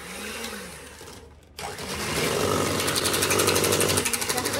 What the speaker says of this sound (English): this mixer should be able to handle it a little bit better